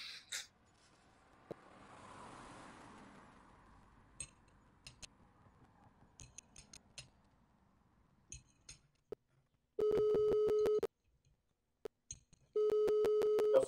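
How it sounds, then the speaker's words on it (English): A telephone ring tone sounds twice in steady electronic bursts about a second long, separated by a pause, after quiet clicks and faint rustling. "Your phone is ringing."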